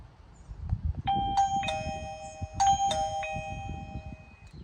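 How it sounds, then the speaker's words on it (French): An ieGeek Bell J9 wireless doorbell chime rings out a bright, bell-like melody of several overlapping tones, clear and close, over low background rumble. "on appuie sur la sonnette et ça sonne au carillon."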